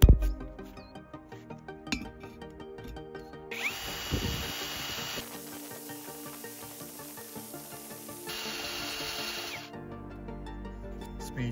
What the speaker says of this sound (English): Time for the 10 millimeter drill bit.